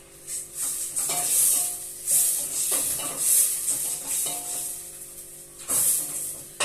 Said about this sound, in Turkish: soğanı kavrulurken hemen mercimeği yıkayacağım.